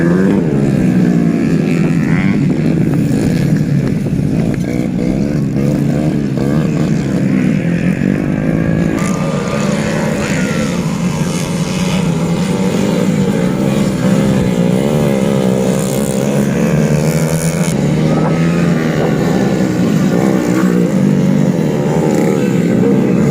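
Grain-carrying motorbike taxis race at the Lapatau Race Cup in Sulawesi, their engines droning loudly and continuously with revving swells, close and unbroken, with no talk over them.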